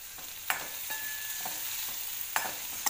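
Onions frying in a pan and being stirred with a spoon, a steady sizzle under occasional sharp scrapes and clinks of the utensil against the pan, close and with no talking.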